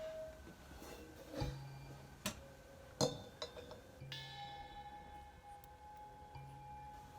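Crash cymbal samples played back in Ableton Live: several bright struck hits with shimmering, ringing decays, spaced irregularly over a steady low hum, with no voices.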